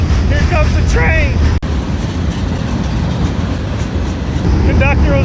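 A train rolls past close by over a bridge near a fishing spot on the water, a steady loud rumble with metallic wheel clatter filling the whole stretch, while birds chirp faintly over it.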